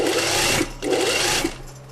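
A sewing machine stitches a seam on simple drawstring-waist trousers, running in two fast, steady bursts with a short pause between and a brief slowdown at the end, close and fairly loud.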